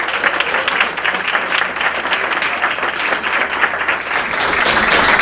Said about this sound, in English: One more round of applause right there.